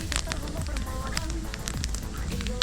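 Campfire crackling on a riverbank during a fishing and camping trip, steady sharp pops and snaps running throughout, close by, with people talking over it.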